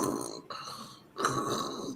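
A voice imitates snoring with two drawn-out rasping snore sounds, close and fairly loud, separated by a short pause.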